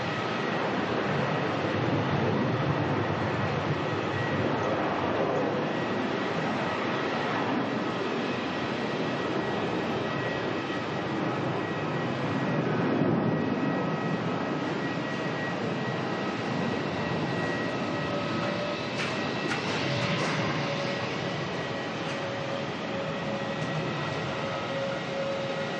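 The Retro Roo airliner at Melbourne Airport produces a steady, broad jet engine roar that holds at a fairly constant level throughout, a sustained distant-to-moderate drone without speech.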